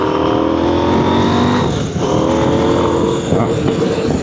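A motorcycle engine on a ride through a neighborhood gives a loud, steady drone with rumbling harmonics and a brief dip in revs partway through, close to the microphone, with no talk.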